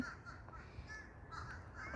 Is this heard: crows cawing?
yes